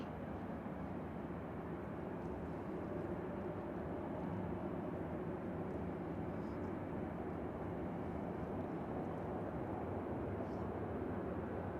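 A fixed-wing aircraft waits holding short of the runway, its engines giving off a continuous, even broadband roar at moderate distance with no clear rise or fall.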